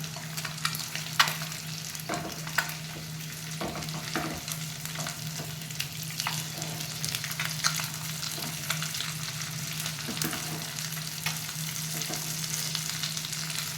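Fish pieces shallow-frying in oil in a pan, a continuous crackling sizzle with scattered sharper pops and occasional stirring scrapes, close and steady for the whole stretch, with no talking.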